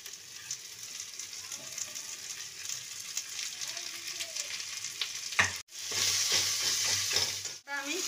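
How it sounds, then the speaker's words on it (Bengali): Fish heads fry in oil in a pan with a steady, crackling sizzle. Louder surges of spitting follow two abrupt breaks, as if more oil were poured in, and the hiss then swells again close by. "মাছগুলো দিয়ে দিলাম, মাছের মুড়ো। একটু তেল কম লাগছে, তেল দিচ্ছি"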